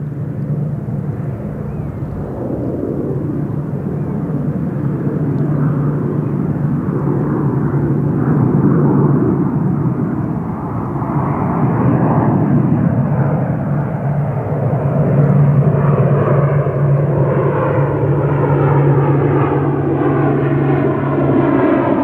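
An ATR turboprop airliner at London Gatwick Airport drones loudly and steadily for the whole stretch, its engine tone shifting and rising as it moves past, with no talk over it.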